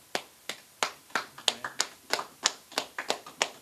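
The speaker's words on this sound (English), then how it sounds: "Just clap it up." Hand claps in a class setting, a dozen or so sharp, separate claps in a loose, uneven rhythm, close and fairly quiet, with no talk.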